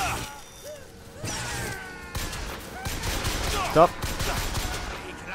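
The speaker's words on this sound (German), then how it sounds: "Ach, da oben wird geschossen auf mich" Gunfire from above in Bioshock Infinite, several bursts of shots crackling at moderate distance amid game effects, with someone talking in German over it.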